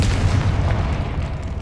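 Confringo fire-blast spell cast in Hogwarts Legacy, a loud sustained rumbling boom with deep low-end roar and a crackling burst, filling the whole moment without speech.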